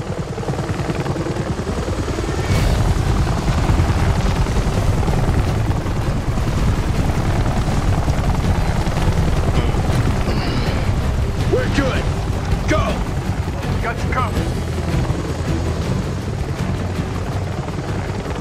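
A helicopter in the video game Army of Two: The Devil's Cartel gives a loud, continuous rotor rumble and whine with thumping, mixed with gunfire-like bursts and game effects and occasional voices.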